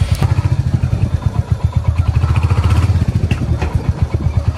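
Royal Enfield Hunter 350 motorcycle running on the road, with a steady pulsing engine thump and rattly front-end clatter, close and loud throughout under wind noise.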